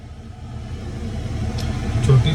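Low engine rumble inside a bus pulling out from Stratford, London, a steady deep hum that grows slightly louder as it moves, with a faint murmur of voices.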